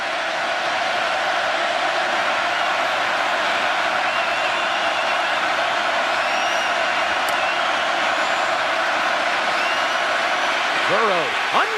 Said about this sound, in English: it's owing to the crowd noise here at Kyle Field